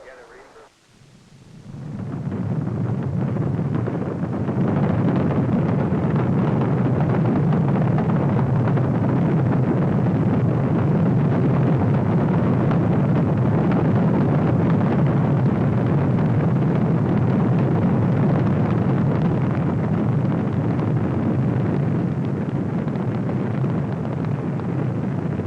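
Apollo 16 rocket liftoff: after a short quiet start, a deep, continuous roar swells up and holds loud and steady for over twenty seconds, a dense rumbling wash with no breaks.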